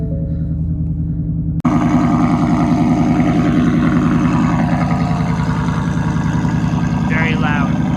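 A Ford Mustang GT V8 engine catches after a jump start and settles into a loud, steady, rumbling idle close by, with a brief voice heard near the end.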